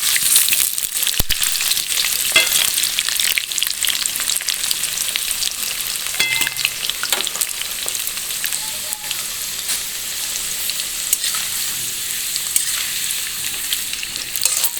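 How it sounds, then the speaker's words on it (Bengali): Cubed potatoes for a simple chicken curry fry in a pan with cumin and dried chilli, giving a dense, close sizzle punctuated by occasional scraping and knocking of a stirring spoon. "আলুগুলি আর একটু ভাজা হবে"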